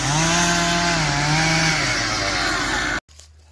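A chainsaw roars loud and close as it cuts through timber, the engine pitch dipping under load before cutting off abruptly near the end.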